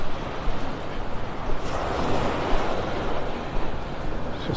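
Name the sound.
ocean waves on beach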